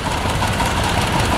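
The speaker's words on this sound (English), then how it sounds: "That's a 1937 G. John Deere that belongs to me" A 1937 John Deere G tractor engine chugs steadily at idle, loud and continuous, with a low, even knocking rhythm, at a steam and gas show tractor parade.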